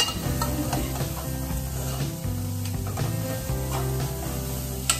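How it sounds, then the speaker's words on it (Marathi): Chopped onion sizzles as it fries on a low gas flame in a pan of garlic already roasted golden, for a home-style dill and moong dal curry; a steady close hiss with light stirring over a faint tonal hum. "आता चांगला लसूण खरपूस भाजून झाला ना की त्याच्यामध्ये हा चिरलेला कांदा घालायचा आणि परत थोडंसं भाजून घेते"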